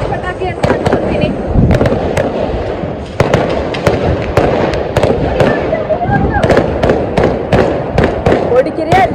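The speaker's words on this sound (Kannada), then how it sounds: "ಪಟಾಕಿ ಅಂತ ಅನ್ಕೊಳ್ತೀನಿ." Firecrackers burst repeatedly during a family Diwali celebration at night, sharp loud cracks and pops coming in quick irregular bursts near and far, with people chattering between the bangs.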